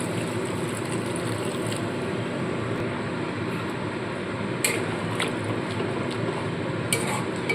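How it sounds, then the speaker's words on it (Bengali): Water poured into a cooking pan of pumpkin and potato ghugni, a steady broad wash of liquid with a few faint clinks near the end, no talking. "এবার এখানে পরিমাণ মতো জল দিয়ে দিচ্ছি"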